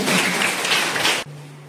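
Applause welcoming group 5 at a training program, a dense burst of clapping from a crowd that runs steadily and then cuts off abruptly, leaving a low steady hum.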